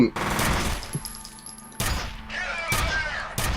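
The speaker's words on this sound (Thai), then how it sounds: "ยิงเข้าที่หัว ยิง" Gunfire in F.E.A.R.: several heavy, loud shots and bursts come in an uneven rhythm, one roughly every second, each ringing out with a short metallic tail over constant combat noise.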